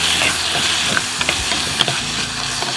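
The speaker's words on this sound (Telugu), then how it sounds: "బాగా పెద్దగా కోసం టమోటా ముక్కలు కూడా వేసుకొని" Large tomato pieces drop into a hot pan for cabbage tomato soup, setting off a loud, close sizzle and frying hiss with a few sharp stirring knocks.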